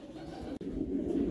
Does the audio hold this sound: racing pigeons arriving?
yes